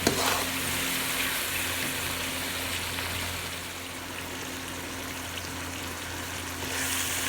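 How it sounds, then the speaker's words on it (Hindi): Masala sizzles and fries in a pan for bhindi masala, a soft steady hiss that stays low and even, with no voices. "अच्छे से मिक्स कर लेंगे और इसको भी 1-8 मिनट के लिए भून लेंगे।"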